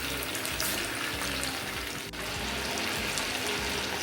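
Chicken kofta meatballs frying in hot oil, a steady dense crackling sizzle with watery bubbling that holds at an even level throughout, close and loud with no talking.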